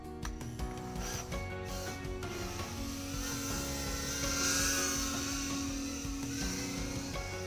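A small RC drone flies and hovers, its rotors giving a steady whirring drone with sustained tones that swell slightly midway, close and continuous throughout.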